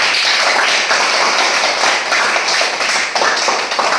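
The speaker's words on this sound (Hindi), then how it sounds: "तालियां पूजा के लिए सब लोग" Classroom of children clapping together, a dense, loud burst of many hands with a few uneven swells, continuing steadily throughout.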